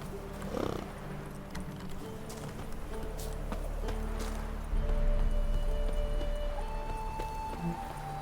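Armored horses clip-clop at a steady walking pace in The Witcher 3: Blood and Wine, the hoofbeats fairly quiet over a low ambient game drone.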